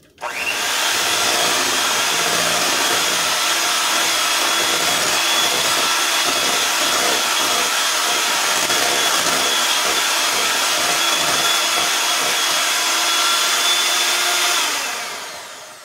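Electric mixer beaters whirring steadily through chocolate cake frosting, a loud continuous motor drone that starts abruptly and runs about fifteen seconds before cutting off, no talk.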